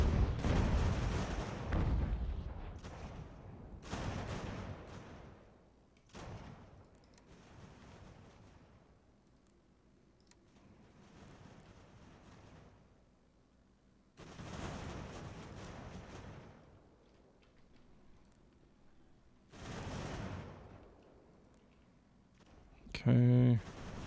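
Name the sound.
cannon artillery fire in the video game Ultimate General: American Revolution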